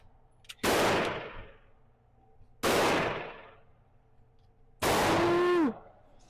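Three loud, sharp gunshots at a shooting range, each a hard broadband crack with a short ringing tail, spaced roughly two seconds apart, with no talk between them.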